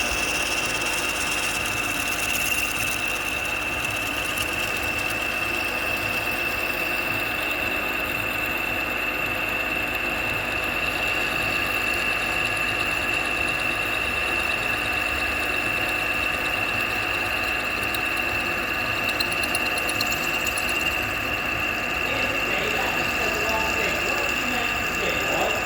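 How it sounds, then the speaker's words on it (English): Drilling a hole through a steel shaft tube with a larger drill bit for a 4 1/2 inch Burrell traction engine model, a steady continuous machine whine with a high sustained tone throughout, fairly close and unbroken. "the hole is being drilled in one of the bigger holes with the bigger drill bit"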